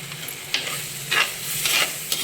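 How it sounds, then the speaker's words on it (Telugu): Tomato puree from three medium tomatoes fries in a pan while being stirred, with a soft steady sizzle broken by several scraping stir strokes close by, with no talking. "ఈ టమాటో కొంచెం వేగనిద్దాం."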